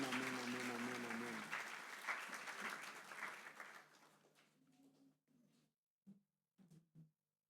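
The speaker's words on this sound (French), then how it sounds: "Acclamons pour la gloire de notre Dieu" A church congregation applauding together, a dense steady clapping that thins out and fades, ending in a few scattered isolated claps, with a sung or held tone beneath at first.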